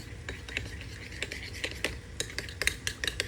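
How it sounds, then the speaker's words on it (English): A utensil stirs a dressing of juice, salt and pepper in a small bowl, a series of quick, light scraping clicks in an uneven rhythm, close and fairly quiet. "Then we're gonna add some salt, some pepper. Give this a good stir"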